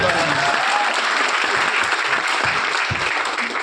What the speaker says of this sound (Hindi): शानदार ताली हो जाए